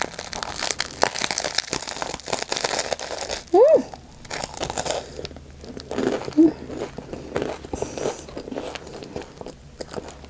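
Crusty Vietnamese banh mi filled with egg, cilantro, pickled radish and carrot is bitten and chewed up close in repeated crackly crunches and crinkles, with a brief vocal sound in the middle and no clear speech.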